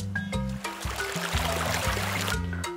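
Water pours steadily into a container for a noodle experiment, a continuous trickling stream with a few low bumps and knocks.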